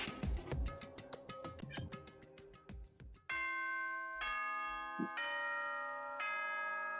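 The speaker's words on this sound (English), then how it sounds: "Ding dong, ding dong." A ding-dong chime announces night time in the Danganronpa: Trigger Happy Havoc video game, first as a rapid run of bright bell tones, then as sustained ringing chime notes that hold and repeat, loud and alone.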